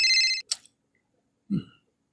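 A cellphone rings with a short electronic ringtone burst, then stops, followed by a brief low thump in an otherwise quiet room.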